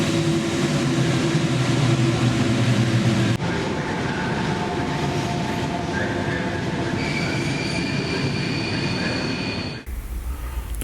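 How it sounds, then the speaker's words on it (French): A Frecciarossa high-speed train pulling into an underground station, a loud continuous rumble with squealing wheels and rising high-pitched brake tones, ending abruptly as it slows. "Notre Frescarossa arrive en gare."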